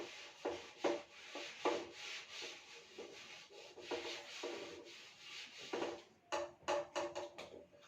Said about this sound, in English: I'm going to rub the diagram.